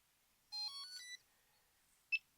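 A Delkim v2 bite alarm receiver switches back on with a quick run of stepped electronic tones, followed by a single short beep a moment later. The sounds are faint and close, over near silence.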